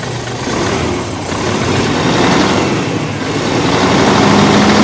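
An Isuzu 6WG1 diesel engine, which has a hard-starting problem at low power, runs steadily close by with a dense, continuous rumble that swells slightly partway through.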